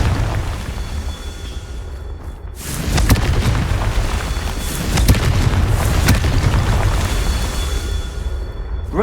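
Confringo fire curse exploding in Hogwarts Legacy, several loud booming blasts with crackling debris over a dense rumbling backdrop.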